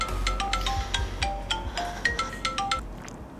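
A mobile phone ringtone plays on its own, a loud, bright melody of short repeating electronic chimes in a steady rhythm for several seconds.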